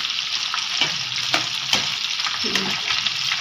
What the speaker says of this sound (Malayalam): അതൊക്കെ എണ്ണയിലേക്ക് ആക്കി കൊടുത്ത് നല്ല പോലെ പരത്തി കൊടുക്കുക